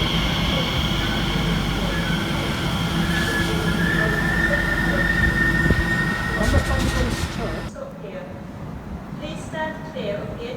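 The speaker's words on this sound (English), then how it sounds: "As 345-053 arrives, working the 10:33 Elizabeth Line service of Gidea Park" Class 345 unit 345-053 on an Elizabeth Line service pulls into a station on the Great Eastern Main Line, a loud rolling rumble with wheel squeal that drops away abruptly near the end, leaving quieter platform ambience.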